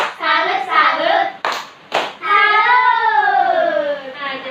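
A group gives a rhythmic salute clap at an Indonesian community meeting, a few short bursts of hand claps mixed with voices chanting along.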